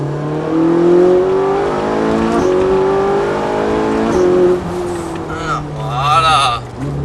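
A Ferrari 458 Italia at the Montlhéry circuit, engine pitch climbing in rising sweeps as it accelerates through the gears, heard from inside the car under ongoing talk, with a brief dip before it pulls again.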